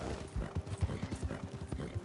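A horse in the video game Red Dead Redemption 2 clip-clops with soft, steady hoofbeats, close and fairly quiet, with a faint whinny-like tone mixed in.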